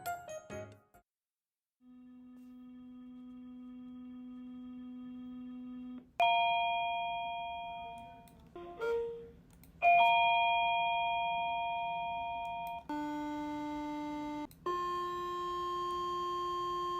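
A school's electronic bell tone marks a change of period, sounding as a series of clean sustained chimes and tones that change pitch in steps, quiet and electronic with no talking.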